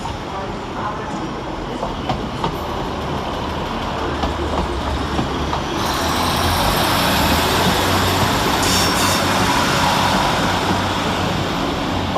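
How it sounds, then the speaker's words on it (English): Scotrail units 153377 and 156458 pulling out of Glasgow Queen Street station on a service to Oban, with a loud rail rumble that swells partway through and a high wheel squeal over the clatter. "153377 and 156458, departing with 1636 Scotrail service to Oban"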